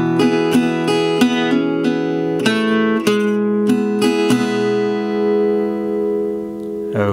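An acoustic guitar plays the opening section of a song, plucking a bright repeated melodic phrase over ringing open strings, then letting a final chord ring out and decay alone.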